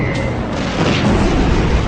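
Gunfire and shelling during wartime street fighting in a stone-and-masonry Italian town, heard as a dense, continuous low rumble of distant booms and blasts that swells slightly toward the end.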